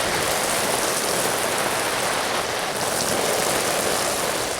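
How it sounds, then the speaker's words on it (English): A dense, steady hiss of a garden hose spraying water onto a tarp, like heavy rain pattering, loud and constant with no voices. "with me spraying it with a hose"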